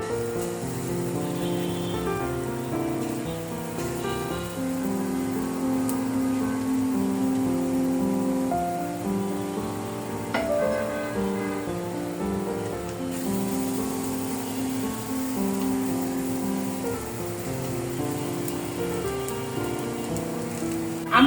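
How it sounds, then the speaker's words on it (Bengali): Motichur laddu batter fries in a small amount of oil, giving a steady, dense crackling sizzle that runs evenly at moderate level from start to finish, close up and without talk. "তারপরে এটা আমরা চুলায় ভাজবো"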